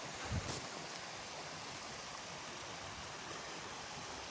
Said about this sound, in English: Just slowing down at this point, just to enjoy the sound of the river.